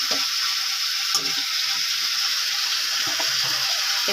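Ginger and tomato fry in a pan with a continuous hissing sizzle, bright and steady. A few soft clinks and stirring knocks come through, and no voices are heard.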